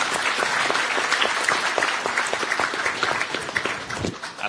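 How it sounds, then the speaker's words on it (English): An audience applauds steadily for a guest speaker's family at a panel event on masculinity, media and power, a dense wash of many hands clapping close and loud, fading slightly near the end. "So I want you to give a huge round of applause for Paraic's family who are joining us here today,"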